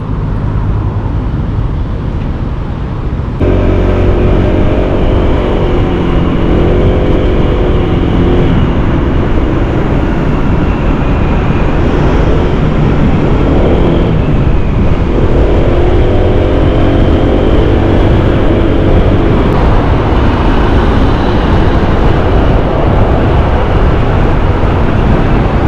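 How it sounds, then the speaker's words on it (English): A 2023 Honda PCX125 scooter rides through city streets, its small engine humming with shifting pitch under a constant rush of wind and road noise, loud and continuous throughout. "That's a ride on a PCX around the city."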